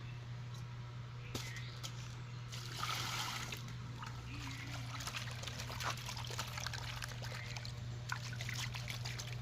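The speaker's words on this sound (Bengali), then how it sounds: "এবারে সব ধুয়ে পরিষ্কার করে নেব আর এই বেতে ঝুড়িটা নিয়েছি" Fish are rinsed with water in a cane basket, giving faint trickling, splashing and dribbling sounds with scattered small knocks over a low steady hum.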